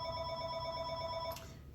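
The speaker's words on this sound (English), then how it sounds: "oh, we didn't turn off the phone." A telephone rings with a steady electronic trill indoors during a recording session, then cuts off abruptly near the end.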